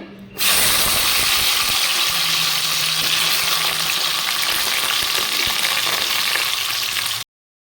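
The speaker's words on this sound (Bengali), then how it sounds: "এখন আমি কলাগুলো প্রথমে ভেজে নেব" Raw banana pieces fry in hot mustard oil, starting suddenly with a loud, dense sizzle that carries on evenly with faint utensil clatter before cutting off abruptly near the end.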